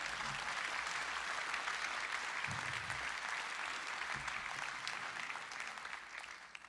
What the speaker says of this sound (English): Yeah, you should clap.